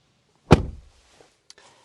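One solid thud of a 2026 Ram 1500 Big Horn pickup truck door shutting close by, followed by faint small clicks and rustles.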